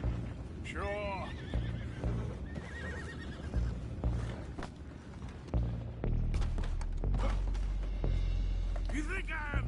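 Horses in Red Dead Redemption 2 let out several shrill whinnies at the start and end, with hoof clip-clop and a low hum under steady voices talking throughout.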